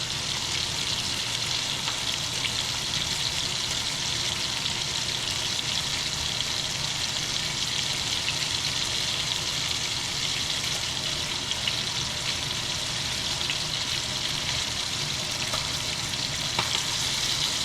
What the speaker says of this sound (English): And I pour it directly in the middle because I don't really eat the skin.